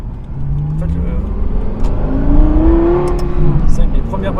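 A Lexus LFA sports car engine revs and climbs in pitch from inside the cabin during a ride, loud and close, rising then holding, with people talking over it.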